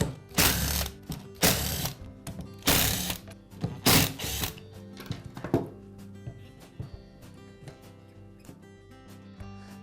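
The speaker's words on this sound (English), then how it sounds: "We'll begin by removing the side cover at the rear of the grinder." Screws come out of the rear side cover of a grinder, heard as a series of close, rapid ratcheting bursts of a driver that grow shorter and quieter, followed by light clicks and handling taps.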